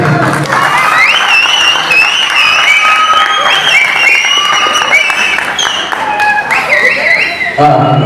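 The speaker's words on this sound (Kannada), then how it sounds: "ಅವರಿಗೂ ಕೂಡ ಒಂದು ಜೋರಾದ ಚಪ್ಪಾಳೆ ಬರಬೇಕು" An audience at a college drama festival in Sindhanur gives loud, sustained applause, dense clapping mixed with cheers and whistles that carries on unbroken, with voices calling out in the crowd.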